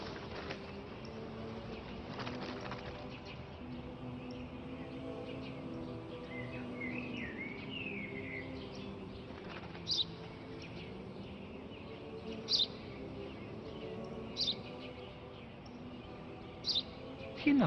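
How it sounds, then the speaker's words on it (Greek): Small sparrow chirps come in faint, sporadic bursts over a quiet, murmuring background, with a few sharper tweets spaced apart. "Ένα σπουργίτη είναι, πατέρα. Ένα σπουργίτη."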